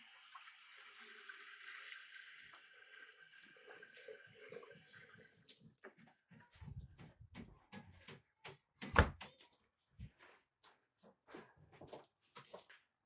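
Warm water runs from a tap into a sink on a farm, a steady hiss for several seconds that then gives way to scattered knocks, clunks and handling noises.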